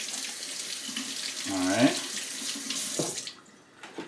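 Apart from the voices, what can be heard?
tap water rinsing a pepper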